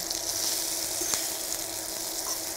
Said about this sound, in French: On laisse bien réduire et on retourne nos petites pommes.